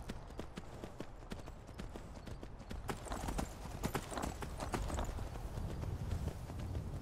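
Horse hooves gallop in Skyrim, a steady rapid clip-clop rhythm of hoofbeats that continues throughout, fairly quiet and unaccompanied by talk.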